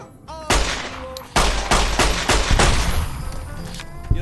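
Hip-fire gunshots in the video game Fallout New Vegas: several loud, close bursts of gunfire in quick irregular succession, each with a sharp crack and a ringing tail, no speech over them.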